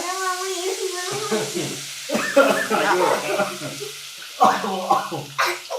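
Tamarind water poured into a sizzling pan for garlic and curry leaf kuzhambu, a steady frying hiss with bubbling surges, heard up close beneath someone talking.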